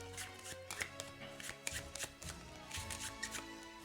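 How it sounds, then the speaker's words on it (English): A hand of game cards is shuffled, giving a run of crisp riffling flicks and soft taps in an uneven rhythm, close up and fairly quiet. "So I take my hand and I shuffle it"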